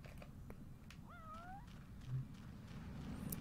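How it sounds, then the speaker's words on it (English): A cat meows once in the Go Vacation video game, a short rising-and-falling call set against faint background ambience and a few soft clicks. "I don't know why cats are just here."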